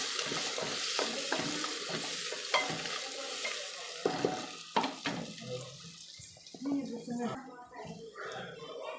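Onions sizzle in a pan for mushroom biryani while a spoon scrapes and clinks against it, and a person talks over the frying.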